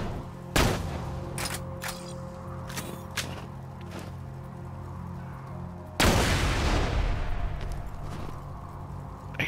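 Gunfire from enemies in Borderlands 2 (True Vault Hunter Mode), with sharp single shots in quick succession and then a heavy, drawn-out roaring blast, loud and close over the game's steady background hum.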